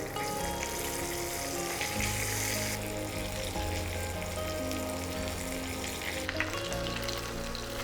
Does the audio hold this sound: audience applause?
no